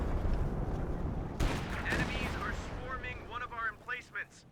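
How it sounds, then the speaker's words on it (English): Siege artillery shells from a barrage land in Company of Heroes 2, loud booming blasts and rumble in the first half, then tapering off as voices talk over the fading noise. "That siege barrage lasted for a decent amount of time. A good number of shells dropped from it."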